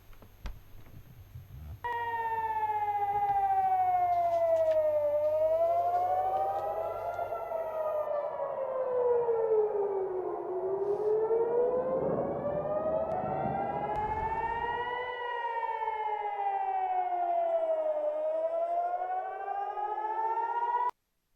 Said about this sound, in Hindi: खतरे के सायरन मुसलसल बज रहे हैं